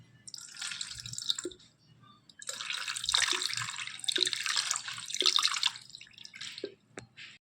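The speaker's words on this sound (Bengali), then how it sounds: "এই যে বন্ধুরা, লক্ষ্মী মাকে একটু স্নান দিয়ে নিচ্ছি।" Water is poured over a Lakshmi idol during a home bathing ritual: steady splashing and trickling in two long bursts with dripping in between, close and fairly loud, no talk.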